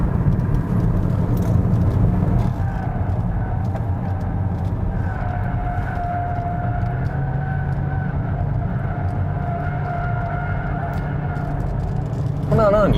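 A 2020 Hyundai Kona Hybrid on a test drive gives a steady interior road rumble and low hum with faint tonal whines throughout, loud and continuous.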